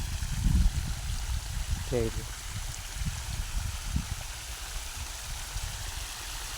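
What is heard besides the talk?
water flowing into a groundnut field through a makeshift channel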